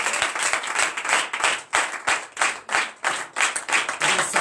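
Congregation at a night prayer service of deliverance and prophecy clapping in strong unison, about two claps per second in a steady driving rhythm, loud and close, with faint voices underneath.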